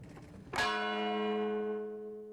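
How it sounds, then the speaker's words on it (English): A single church bell from a Biloxi church damaged by hurricane Katrina, struck once loudly and left ringing with a long, slowly fading hum. "This bell is what's left of a Biloxi church."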